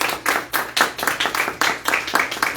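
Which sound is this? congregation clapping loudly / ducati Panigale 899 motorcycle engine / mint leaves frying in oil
congregation clapping loudly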